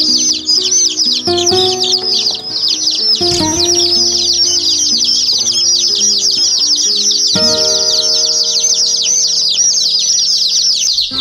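Newly arrived chicks, both laying hens and meat birds, peeping together in a dense, constant chorus of high, rapid cheeps, loud and close, with faint tonal hums underneath and no voices.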